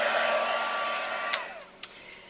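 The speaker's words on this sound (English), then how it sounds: "Okay, so I'm going to heat set this." A heat embossing tool blows a steady, loud stream of hot air over a handmade Halloween card, a continuous whooshing hum that winds down and stops, followed by a couple of sharp clicks.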